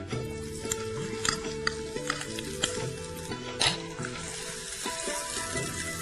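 Chopped onion sizzles and fries in a pan, with a steady close crackle and repeated light scrapes and clinks of a spoon stirring against the pan.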